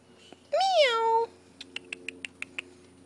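A house cat gives one clear rising-falling meow up close, followed by a short series of soft, evenly spaced clicks in an otherwise quiet room.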